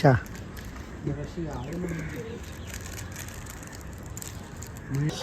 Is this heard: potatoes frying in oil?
no